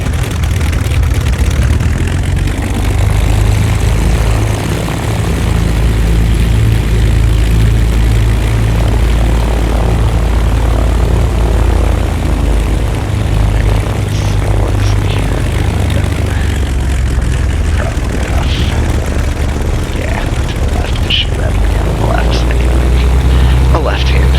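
Propeller engines of a Baron 58 twin in the X-Plane 11 flight simulator drone loudly and steadily throughout, with a voice talking over the cockpit hum.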